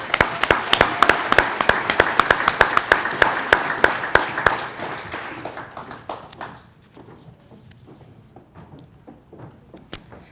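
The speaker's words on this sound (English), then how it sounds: "Round of applause for that." A round of applause at a county employee recognition and awards ceremony: dense, sharp clapping from a crowd that holds strong for several seconds, then thins to scattered claps and fades out, with one last clap near the end.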